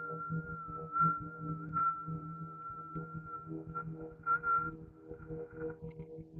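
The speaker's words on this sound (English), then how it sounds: "And as you exhale, you try to whistle." A soft, steady whistle carried on a slow exhale during a yin yoga breathing exercise, holding one thin tone for several seconds, quiet and close.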